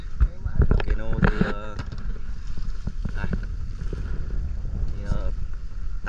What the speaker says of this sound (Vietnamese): Đây, có một chiếc cano thì đang có sắp tới nè.